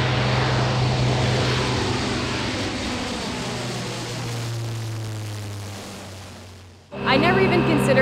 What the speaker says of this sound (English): her historic first flight takes to the air